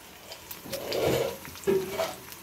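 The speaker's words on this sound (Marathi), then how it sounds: "आता आपली लसूण मिरची मस्तपैकी फ्राय होत आहे" Garlic and green chili fry in oil in a kadhai while making Maharashtrian kadhi, giving a soft sizzle with a couple of stirring scrapes, close and fairly quiet, no talk.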